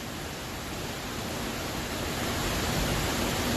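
Heavy rain pours outside in Virginia as a dense, continuous hiss that holds steady from start to finish, with no voices over it.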